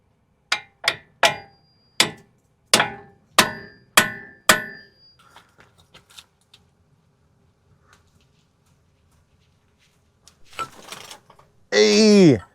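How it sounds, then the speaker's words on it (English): An extractor tool is hammered against a stuck part on a 4th-gen Toyota 4Runner during upper control arm replacement: about nine sharp, evenly spaced metallic blows close by, then a quieter stretch ending in a short burst of talk. "Let's go ahead and put our extractor tool on it one more time, and then hopefully it will break loose."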